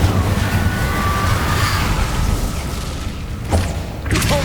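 A cast of the Incendio fire spell in Hogwarts Legacy, heard as a loud, close whooshing boom that swells at the start, with sharp thudding hits near the end.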